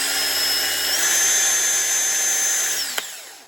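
A cordless drill whirs loudly and close with its variable-speed trigger held in, rising in pitch as it speeds up, holding steady, then winding down and ending with a small click.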